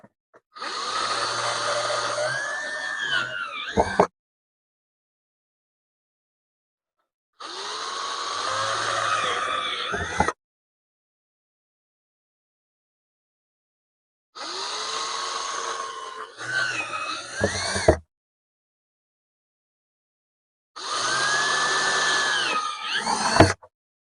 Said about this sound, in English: Alright, we'll drill some holes.